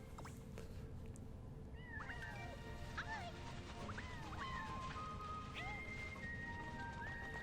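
Kittens on an island in Super Mario 3D World: Bowser's Fury give several short, high meows scattered over a steady low game background, moderately close, with no talking.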